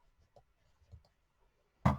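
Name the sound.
scissors cutting rope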